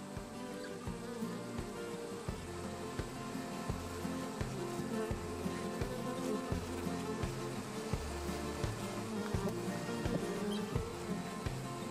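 Honey bees buzz continuously in a dense swarm at a queen production yard in Kentucky coal country, a steady drone with rhythmic pulses from nearby activity throughout.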